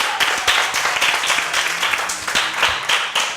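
Children clapping together for a girl named Yao Nzi Grâce Emmanuela as she is called forward, steady ragged applause of many small hands, fairly close and continuous with no talking over it.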